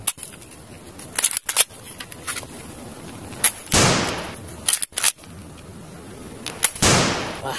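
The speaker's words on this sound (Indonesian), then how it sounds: "Wah, tembakan M40." M40 toy gun firing, two loud sharp bursts, each with a spray-like hiss that fades over about a second, amid scattered clicks and knocks from handling.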